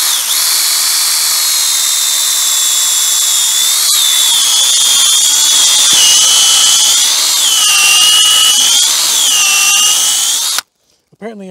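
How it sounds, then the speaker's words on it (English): A power drill boring into a maple tree for sap tapping, a loud, close, steady high whine that wavers in pitch for about ten seconds and then stops abruptly. "when you're drilling this, you want a slight angle going up"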